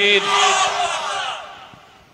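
A large crowd at an outdoor Islamic sermon gathering shouts a takbir response in unison, one loud collective cry that swells and then fades away over about two seconds.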